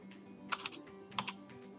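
Two quick pairs of computer keyboard key presses for a Ctrl C then Ctrl V copy-and-paste, sharp and close over a quiet room hum.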